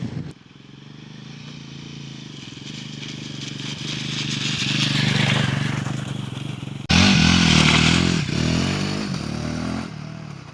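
A Royal Enfield Himalayan 450 motorcycle rides along a rough track, its engine drone building steadily, then jumping louder with clattering and rattling from the terrain and wind.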